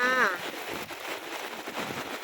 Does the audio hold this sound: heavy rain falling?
yes